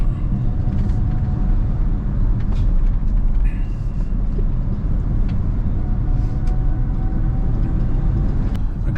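Steady broadband rush of wind noise inside a Kia EV6 GT cabin while driving, a constant loud roar with low rumble throughout and little variation.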